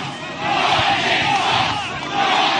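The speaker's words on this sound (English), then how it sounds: "What a crowd." A large stadium crowd at a football game roars in a loud, sustained wash of cheering and shouting that swells and holds without a break.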